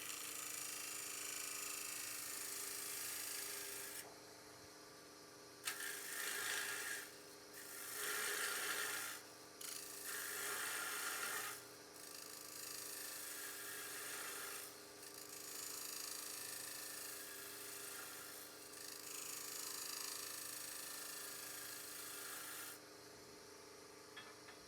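A bowl scraper rasps across a small turned maple bowl, with steady broadband scraping throughout and several louder, harsher bursts of strokes, close and clear with no talking.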